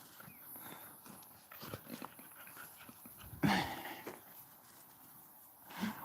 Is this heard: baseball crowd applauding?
no